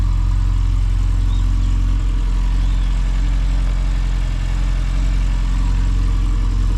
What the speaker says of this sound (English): Do love the sound of the exhaust on this one.